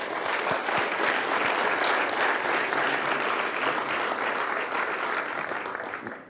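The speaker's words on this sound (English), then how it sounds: "I think that deserves a applause." Sustained audience applause at a 2024 Legacy Business award ceremony, a thick, loud roar of many hands clapping that stays strong for about six seconds before tapering off at the end.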